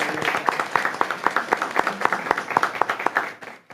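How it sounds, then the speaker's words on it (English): A small group at a school board meeting claps in distinct, fairly sparse hand claps that are moderately loud, then trails off and stops near the end. "So let's give them a round of applause."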